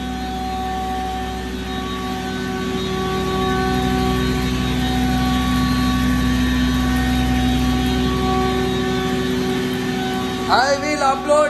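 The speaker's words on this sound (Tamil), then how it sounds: "மிக அற்புதமா வந்து அரைச்சு கொடுக்குது. 10 HP motor, 10 HP motor, SS pulveriser" A 10 HP stainless steel pulverizer motor rated at 4000 RPM runs as a loud, steady, close drone, with a voice breaking in briefly at the very end.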